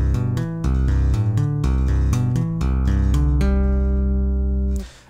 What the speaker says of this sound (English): Okay, so bar 3 sounds like this.